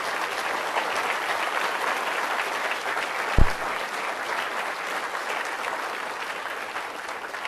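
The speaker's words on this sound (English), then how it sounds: "now you can applaud." Sustained, dense audience applause closing a technical talk on developing neural networks in C#, steady and fairly loud throughout with one brief thump partway through.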